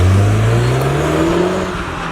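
Audi TT 1.8 turbo accelerating hard: a loud, close engine drone climbing steadily in pitch as revs build, with a whirring turbo layer on top and no pause.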